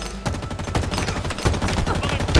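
Assault rifle fire in a Halo Infinite multiplayer deathmatch: loud, rapid automatic shots ring out in a steady stream for the whole stretch.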